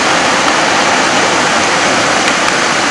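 The Belaya River rushing through a Caucasus valley, a loud, dense, unbroken roar of flowing water heard close up, with no voices.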